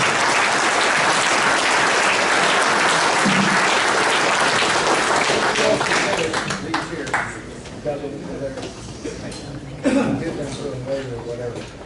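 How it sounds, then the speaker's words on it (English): An audience at an auto racing hall of fame ceremony applauds loudly and steadily for an honored driver, the clapping thinning in the second half as cheers and talking voices rise over it. "How about another nice round of applause for George Boyles?"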